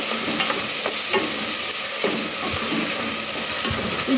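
Ingredients for a Sri Lankan chicken curry fry in a pan with a steady, loud sizzle, while soft scraping knocks from the stirring come through every second or so.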